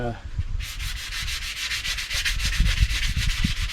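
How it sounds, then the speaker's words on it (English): Rough wood for a homemade dog gate being sanded, a close, steady scratchy rasp with quick back-and-forth rhythm, no voices. "Now this sanding I'm doing"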